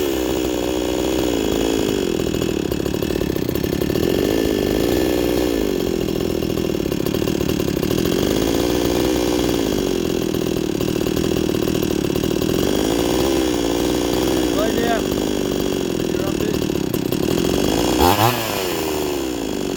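An Aldi Gardenline chainsaw engine runs loud and close, its two-stroke drone rising and falling in repeated revs, with a sharper rasp near the end and no voices.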